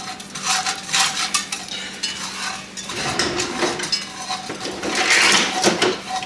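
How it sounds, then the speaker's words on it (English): A spoon scrapes and clinks steadily around a pot as flour is stirred into a roux for Cajun gumbo, with soft sizzling beneath the repeated strokes. "And now we're just gonna stir. Just gonna keep stirring."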